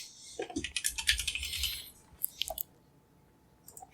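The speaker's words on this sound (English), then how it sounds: "I'm just going to type it in." A fast burst of close keyboard typing, dense clicking keys for about two seconds, then a few isolated taps trailing off into quiet.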